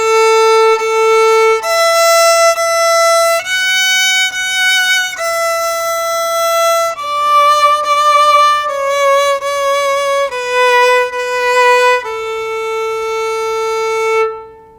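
A beginner violin exercise plays clear, sustained bowed notes, two bow strokes per note, stepping through a simple sequence with fingers lifted to the open string; bright, close and loud, with no talking.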